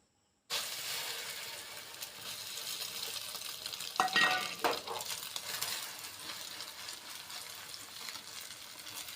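Egg omelette batter with puffed rice, salt and chopped chilli being stirred and sizzling in a pan, a constant near hiss with a cluster of louder scraping stir strokes in the middle.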